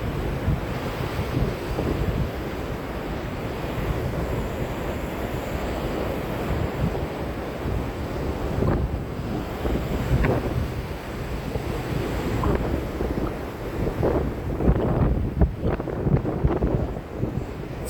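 Wind buffets the microphone over steady surf breaking on a beach, a continuous loud broadband roar with gusts and a few sharper bumps toward the end, no talking.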